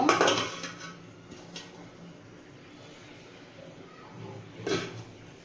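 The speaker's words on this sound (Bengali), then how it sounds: "এবার আমি একটু ঢাকা দিয়ে দেব।" Metal lid set onto a pot of chicken and potatoes on the stove, giving a bright clatter at the start, a lighter tap in between and a final clink near the end, with a quiet kitchen in the gaps.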